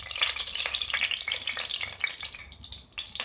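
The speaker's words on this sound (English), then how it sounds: "Now we are going to add in the ghee. We'll add in the mustard seeds." Mustard seeds fry in hot ghee with a steady bright sizzle, sharp pops and crackles scattered throughout, stirring noises mixed in, close up with no voices.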